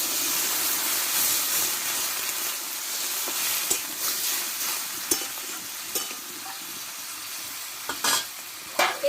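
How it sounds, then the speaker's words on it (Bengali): Water poured into a pan of frying spices for a fish-head and Malabar spinach curry, setting off a loud, steady hiss and sizzle with scattered stirring clicks, close and alone. "এবার জলটা আমি দিয়ে দেবো কিছুটা।"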